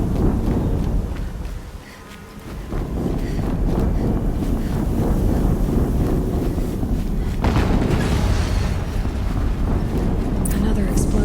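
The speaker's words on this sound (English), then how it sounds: "Another explosion." Loud, sustained rumbling blast roars from the game Horizon Zero Dawn, a dense low-heavy explosion that dips briefly and then surges again with crackling debris.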